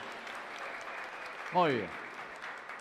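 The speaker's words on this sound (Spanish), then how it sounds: "Fuerte el aplauso para ellos." Congregation applause during a live Mass in a parish church, a soft, distant patter of clapping under a brief spoken voice that rises in pitch over it.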